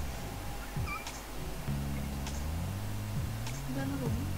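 A cat in the No More Heroes video game meows and caterwauls in long, wavering cries amid ticking game sounds, with someone speaking over it.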